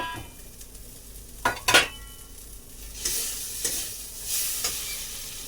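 Fried prawns go into a pan of sizzling taro stolons and are stirred, with a couple of sharp metallic scrapes and clinks of a utensil against the pan, then bursts of frying hiss rising and falling, close by, no talking.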